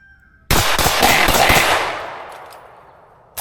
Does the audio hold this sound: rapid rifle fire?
yes